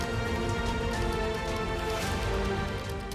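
Heavy rain falls in a steady, dense hiss that fills the whole stretch at an even level, with no voices.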